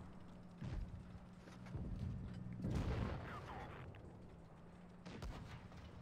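A Russian tier-eight heavy tank fires its main cannon in a tank video game, giving a few muffled, fairly quiet booms spread over several seconds against low background rumble.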